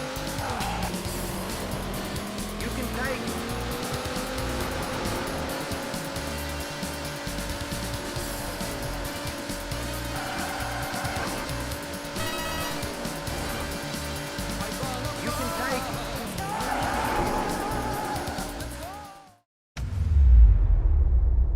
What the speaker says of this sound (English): Daytona USA is an arcade racer, celebrated for its vibrant graphics, smooth controls and iconic soundtrack.